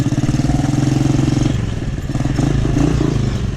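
A Honda CG 125 motorcycle engine with a strange noise runs steadily at idle with a rough, throbbing rattle, close and loud throughout.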